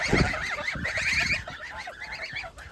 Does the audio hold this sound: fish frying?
no